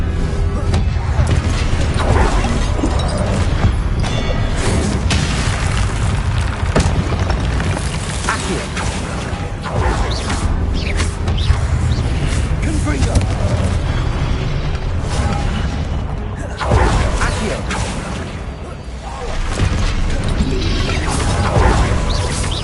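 Explosive fire spells in the video game Hogwarts Legacy, a continuous barrage of booming blasts and crashing impacts that stays loud throughout, with a few brief dips between bursts.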